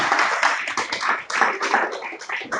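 A church congregation at a Sunday service claps for God, many hands striking in loose, uneven bursts that swell and dip, close and fairly loud.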